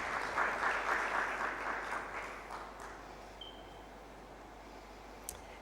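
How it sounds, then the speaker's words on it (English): An audience at a national dispute resolution summit gives a round of applause for speakers, a soft, steady wash of many hands that gradually dies away, leaving near silence. "can we give them a round of applause and a welcome?"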